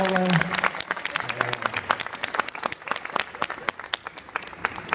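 An audience applauds after a tsugaru shamisen performance at a Japanese culture festival, many hands clapping briskly and close, with a brief voice and sustained instrument tone at the start before the clapping takes over.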